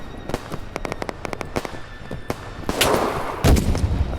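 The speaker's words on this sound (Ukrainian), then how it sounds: "Гранату йому закатив." Gunfire and a grenade blast in the video game Operation: Harsh Doorstop: a string of sharp, separate shots is followed by two heavier booming explosions near the end, all loud and close.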